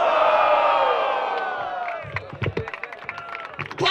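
At a rap battle, a crowd roars and cheers loudly, then scattered claps and whoops break out in uneven bursts, ending in a renewed swell of noise; a voice may be faintly mixed in.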